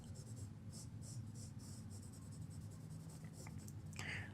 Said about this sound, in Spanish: Puedo controlar el difuminado con la punta